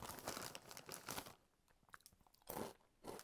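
Tomato-flavoured crisps crunched and chewed close to the mouth, in quiet bursts of crackly bites separated by softer chewing pauses.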